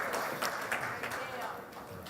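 A small audience at a Libertarian forum for US Senate candidates claps continuously, a dense, even patter of hands heard from a moderate distance.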